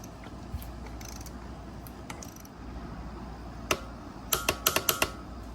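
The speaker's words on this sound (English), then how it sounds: "I'm going to torque it down to 118 foot-pounds" Torque wrench clicking as it tightens a CV axle nut to 118 foot-pounds on a 2011 Dodge Avenger 3.6-litre front-wheel drive, a burst of several sharp close ratchet clicks near the end after a few isolated ticks over quiet garage background.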